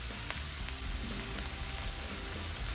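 Jicama and carrots stir-fry in a pan with garlic and dried shrimp, sizzling steadily and continuously, with occasional scraping from stirring.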